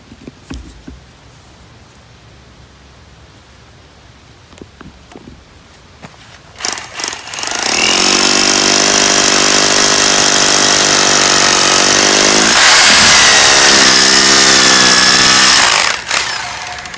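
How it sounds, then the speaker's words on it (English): A power drill, likely engine-driven, starts up after a few quiet seconds and then runs loud and steady, boring a pole barn post hole into rocky ground. Its pitch dips briefly midway as it bites into the ground, and it cuts off near the end. "we're going to give this drill a whirl and see if we're gonna sink"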